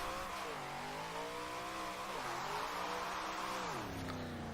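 A Dodge Charger in Forza Horizon 4 revs hard and slides as it spins out, its engine tone rising, dipping and surging again over several seconds, loud and close with no talking.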